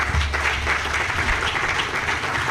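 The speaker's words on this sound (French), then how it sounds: "je voudrais que nous puissions le remercier par des applaudissements." Sustained applause from an audience at a Beninese political gathering thanking President Patrice Talon, a dense steady patter of many hands with no voices above it.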